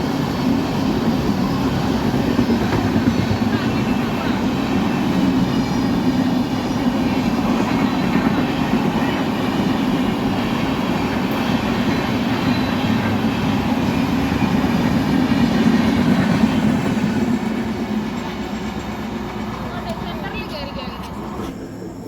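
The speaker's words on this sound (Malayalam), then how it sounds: "നേരത്തെ നമ്മൾ കണ്ടത് ട്രെയിൻ പോണതാണ്." A train rolls past on the railway line near Kadalundi, Kerala, a steady loud rumble with faint clickety-clack lasting about twenty seconds, easing slightly near the end; no speech is heard.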